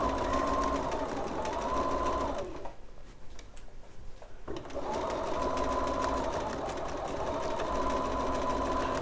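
A sewing machine stitches a quarter-inch seam on a quilt block, humming steadily and loudly up close, pausing briefly midway before running straight on again, with soft talk in the background.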